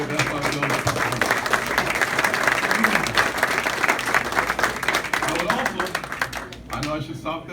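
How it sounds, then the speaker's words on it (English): Audience applauding at a presidential candidate's campaign town hall in Le Mars, Iowa: steady, dense clapping that holds loud for several seconds before thinning out, with some voices mixed in. "I know I should stop there because you already clapped"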